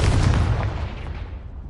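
A Confringo blasting spell fires in a wizard video game: a sharp, heavy burst at the start that quickly fades into a rumbling decay over under two seconds.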